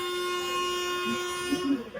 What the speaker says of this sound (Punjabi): ਟ੍ਰੇਨ ਦਾ ਹਾਰਨ ਵੱਧ ਗਿਆ